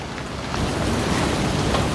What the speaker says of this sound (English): A nice fountain feature.